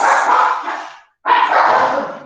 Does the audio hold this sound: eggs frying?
no